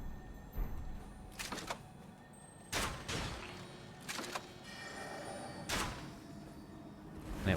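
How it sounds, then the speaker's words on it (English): Crossbow bolts fired in Elden Ring, a handful of sharp separate shots spaced a second or so apart, each a quick loud snap over a quiet background. "Let's use the crossbow."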